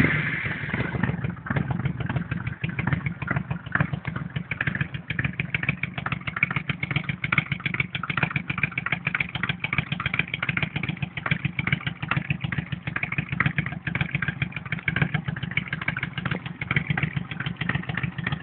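Honda Shadow Ace 1100 custom chopper motorcycle idling, a loud close steady lumpy V-twin rumble with fast regular pulses throughout, running alone without talk.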